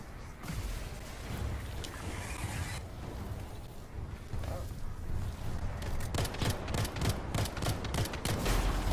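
Rapid pistol gunfire in the video game Anthem, a quick run of sharp shots in the last few seconds over a dense, steady rumble of combat noise, with a person talking at low level beneath.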